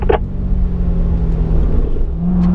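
A car accelerates up through the gears to fifth on a racetrack, with a steady, loud engine rumble and drone that rises in pitch near the end, with no talk.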